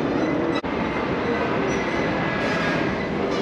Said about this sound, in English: Monorail, pretty cool, very crowded.